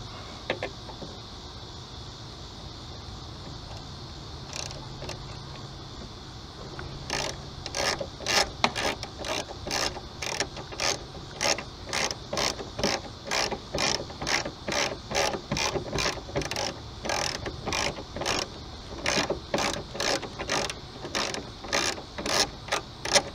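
Ratchet turning a 7/16 deep well socket on the intake of a Ford Explorer 4.0L engine, with quiet rubbing at first, then a long run of sharp, evenly spaced clicks from close by, with no talk.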